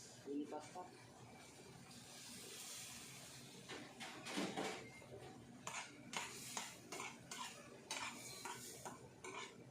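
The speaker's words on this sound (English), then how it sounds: "Put on the pan penne pasta." Penne pasta tipped into a pan and stirred makes scraping and clattering against the metal, with bursts of rattling and knocks in uneven rhythm, close and fairly quiet.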